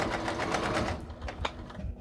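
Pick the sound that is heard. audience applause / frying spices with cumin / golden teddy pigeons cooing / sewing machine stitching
sewing machine stitching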